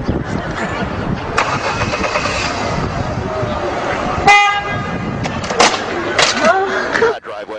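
A car engine cranking and catching, loud and close, with a horn-like toot and agitated voices shouting throughout, ending in an abrupt cutoff.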